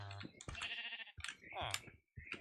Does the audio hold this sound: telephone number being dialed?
no